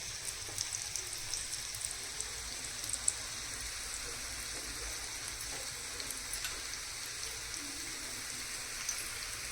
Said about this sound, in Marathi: शॅलो फ्राय करून घेते.